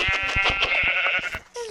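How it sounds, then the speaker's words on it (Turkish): Sheep in a video game bleat in a quick run of loud, wavering calls over soft rhythmic thumps, followed by a brief sliding tone. "Aha koyun."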